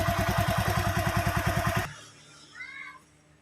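A cold Yamaha Megapro motorcycle engine runs with a rapid rhythmic mechanical ticking from a worn timing chain, close and loud, then cuts off abruptly, leaving a quiet background with a faint short tone.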